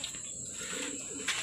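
Pigeons on a farm coo softly in short, low murmuring phrases over a quiet background, faint and fairly close, with no talking.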